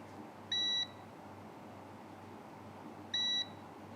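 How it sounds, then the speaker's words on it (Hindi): Two short, clear electronic beeps from a multimeter on continuity test across boost and buck coils in mobile phone repair, spaced a few seconds apart over a faint steady background hiss. "ये देखिए ये सब बीप दे रही हैं आपस में, ये भी ओके हैं।"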